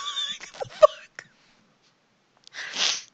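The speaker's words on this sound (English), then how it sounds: "Did I just sneeze again?" A sneeze bursts out near the end, a single loud noisy blast after a short gap, following a few seconds of speech and brief clicks.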